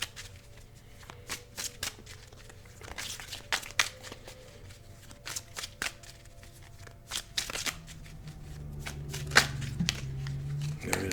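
Tarot cards being shuffled by hand, a quiet series of crisp riffling and flicking bursts, close and soft, with a faint low hum underneath toward the end.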